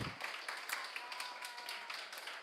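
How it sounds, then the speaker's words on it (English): Audience applause at a civic governance event in Jamaica, a dense steady patter of many hands clapping throughout, moderately loud and close, with no talk over it. "And I'm going to ask everybody, give Jeanette a big round of applause."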